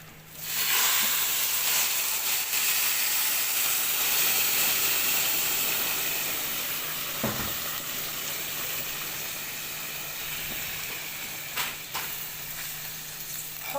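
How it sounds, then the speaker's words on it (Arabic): Hot water poured into a cooking pot over fried rice for Egyptian koshari sets off a loud hissing, sizzling rush that starts abruptly and slowly fades over several seconds, close up and without speech. "وبعد كده هنزل بالميه السخنه"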